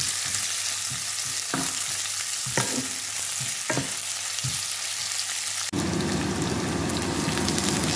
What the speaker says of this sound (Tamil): பச்சை மிளகாய், வெட்டின வெங்காயம் எல்லாத்தையும் நல்லா போட்டு ஓரளவு வதங்கி கொண்டு வரையில